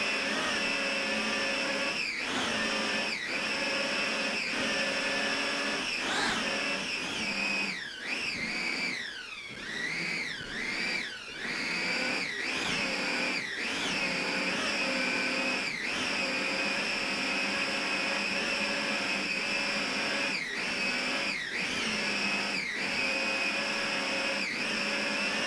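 Offshore racing powerboat engines at the 2003 Brick Offshore Grand Prix in Point Pleasant, NJ, roaring loud and steady throughout, with pitch swells and dips as the throttle is worked through a turn.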